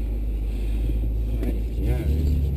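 Inside a new 560-horsepower BMW M5 driven fast, the engine and road noise keep up a steady, heavy low rumble that never breaks. It is loud and close, as heard from the cabin.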